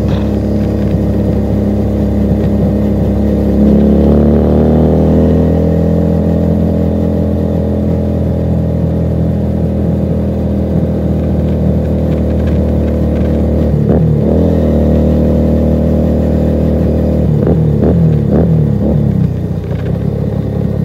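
A Keeway SCR 250V motorcycle fitted with a Mavionic exhaust revs loudly and close, a deep continuous engine rumble rising and falling in pitch with several throttle blips near the end.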